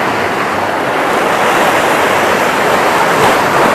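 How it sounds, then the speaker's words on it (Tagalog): Ocean surf breaks on the shore at Cabongaoan, a steady, loud, broadband roar of rushing water that swells slightly and never lets up, with no voices. "Ayun na yung alon, guys."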